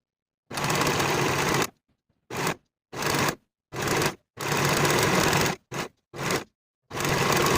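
A sewing machine finishes the top edge of a tank top in about eight stop-start runs of steady, loud stitching, some long and some short, separated by brief silences.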